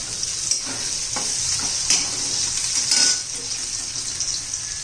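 Chopped garlic, then onion, hits a hot pan for a Khandeshi ridge gourd bharit and sizzles steadily, with a few louder bursts of frying and faint stirring and utensil clinks close by, no voices.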